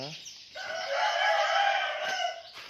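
A rooster crows loudly and close on a Thai poultry farm, one long sustained call lasting about two seconds, with other farm chickens faintly around it.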